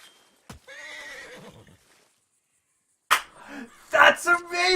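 A horse in Red Dead Redemption 2 neighs in two bursts, each a loud shrill whinny separated by a silent gap, with a sharp slap-like hit before the first.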